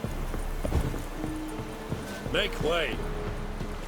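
Hooves of Roach, Geralt's horse in The Witcher 3, clip-clop at a steady walking rhythm at mid distance, while voices talk over them and another character calls out.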